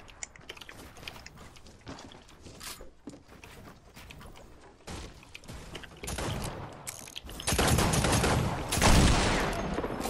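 Gunfire from a six-shooter revolver in a Wild West video game, with scattered sharp shots over the first half and denser bursts of shooting growing louder toward the end, mixed with other game effects.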